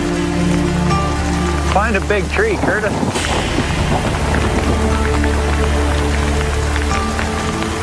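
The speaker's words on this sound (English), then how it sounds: "Thunder and lightning, rain and hail." Rain and hail pour down steadily on an outdoor trail where people are riding horses, with a sharp crackling burst midway. Someone calls out over the downpour.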